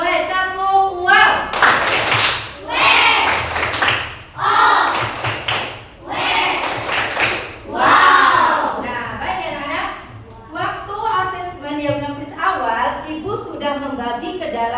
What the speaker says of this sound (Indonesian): coba kita tepuk wow ya